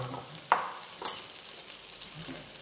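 Finely chopped onions fry in a pan for a leafy bhaji, a soft low sizzle broken by two sharp scrape-clicks of a spoon against the pan early on.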